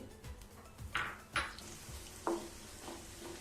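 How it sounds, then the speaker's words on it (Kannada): Cumin seeds dropped into hot oil give a quiet crackling sizzle, with a few short bright hisses and spoon clinks against the pan, close by. "ಎಣ್ಣೆ ಸ್ವಲ್ಪ ಬಿಸಿ ಆದಮೇಲೆ ಜೀರಿಗೆ ಎತ್ತಿಟ್ಕೊಂಡಿದ್ವಲ್ಲ ಅದನ್ನು ಹಾಕೊತಾ ಇದ್ದೀನಿ"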